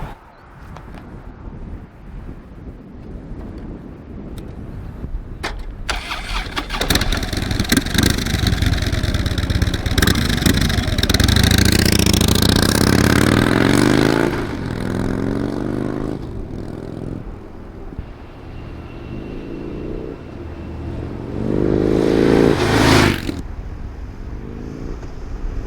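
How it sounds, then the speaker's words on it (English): A 2012 Harley-Davidson Road King on stock exhaust pipes idles, then pulls away with a loud rising roar and shifts up through the gears. It passes by with another surge near the end, wind buffeting the microphone throughout. "I have my stock pipes on. I'm gonna do some takeoffs, some drive-bys,"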